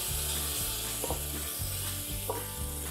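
Seafood tofu pot poured into a very hot clay pot, giving a loud, constant close-up sizzle with low bubbling pulses underneath and no talking.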